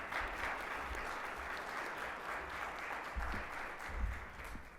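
Steady audience applause fills a civic club forum as a panel sponsor is welcomed to the podium, dense continuous clapping throughout with a few louder bursts near the end.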